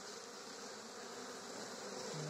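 Honey bees buzz faintly at a hive, a soft continuous insect hum with no voices.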